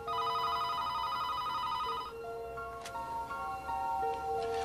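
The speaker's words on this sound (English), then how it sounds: "We were just getting ready to watch a video when the phone rings." Telephone ringing in a house late at night, an electronic ring tone sounding in repeated tonal bursts, moderately loud and close, with no talk.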